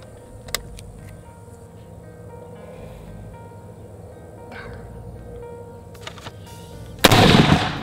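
A rifle fires at a hog on a nighttime thermal hunt: one loud, abrupt shot near the end, ringing briefly after a long stretch of quiet outdoor hush with a faint click early on.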